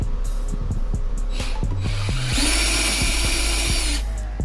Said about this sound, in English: Turn the drill on a little bit faster.